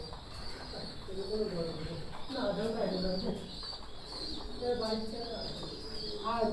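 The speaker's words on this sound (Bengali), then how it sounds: "এই যে কবুতর দেখছেন পিওর ব্লাড লাইনের বাংলাদেশের অন্যতম ভালো কবুতর গলাদার কবুতর" Pakistani Teddy pigeons, a pure-bloodline breed kept on a pigeon farm, coo in soft, repeated throaty phrases close by, continuing steadily beneath a person talking.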